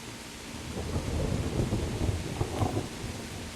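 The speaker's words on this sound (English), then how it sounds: "I hope that all that rain doesn't put it out." Heavy thunderstorm rain in the medieval video game Kingdom Come: Deliverance, a steady dense downpour with low rumbling thunder swelling through the middle, loud and continuous with no talk.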